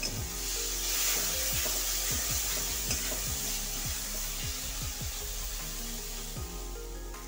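Spice masala with sugar and Kashmiri chilli powder sizzles steadily in a pan, a constant close hiss broken by repeated scraping strokes as it is stirred, with no talking.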